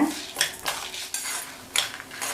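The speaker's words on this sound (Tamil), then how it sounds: "நிதானமான தீயில வச்சு கைவிடாமல் வறுத்துக்கோங்க" Moong dal and dried red chillies roast in a pan over low heat, stirred nonstop; a handful of scraping, clinking spatula strokes land irregularly against the pan, fairly close, with no talking.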